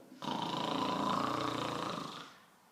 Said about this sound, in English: Soon, Mr. Tortoise began to snore.